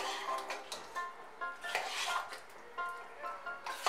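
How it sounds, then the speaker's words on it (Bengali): A cooled pressure cooker holding daliya khichuri being opened, with a string of close metallic clinks, clanks and rattles of the lid and pot in quick succession. "এখন আমি প্রেসার কুকারটাকে খুলে দিচ্ছি।"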